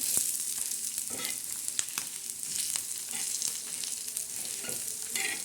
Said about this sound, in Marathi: हा मसाला असा छान असा असा खालवर करत राहायचं म्हणजे भाजतच राहायचं